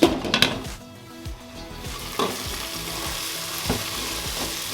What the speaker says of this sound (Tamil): ஸோ இந்த தக்காளி நல்லா குக் ஆகி வரணும்